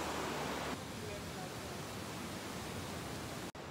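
A waterfall in Laguna gives a soft, continuous broadband rush, steady and fairly distant, with one brief dip near the end.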